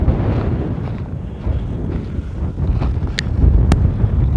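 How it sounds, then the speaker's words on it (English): Strong wind near a fresh lava field in Iceland, roaring and buffeting hard against the microphone in a steady, loud rush with gusts swelling toward the end. "This is very windy today."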